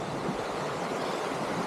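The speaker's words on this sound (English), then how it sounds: "Got the river flowing under the path here and off into the trees." A river flowing beneath a forest path on the Camino de Santiago in Spain, a steady broadband rush of water heard close and alone.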